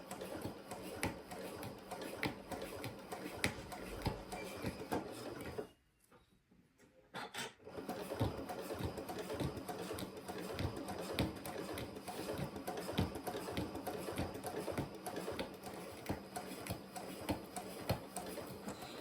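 A sewing machine runs slowly, stitching a sewing project with a dense, regular ticking and clattering of the needle mechanism, pausing briefly for about two seconds before resuming at the same steady pace.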